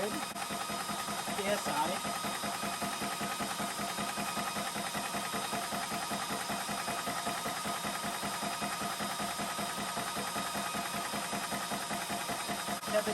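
An Orcair PCP portable air pump compressor runs steadily and close by, giving a continuous rapid mechanical chugging hum throughout, with brief speech partly under it.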